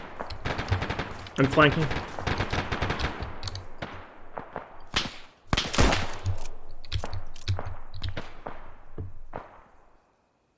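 Machine gun fire in the video game ArmA: long rattling bursts and single loud cracks trade back and forth, some close and sharp, others more distant, with someone talking briefly during the shooting.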